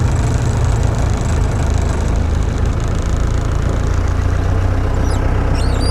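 An open-top Land Rover drives by, its engine a steady, continuous mid-range rumble with broadband road noise and no voices.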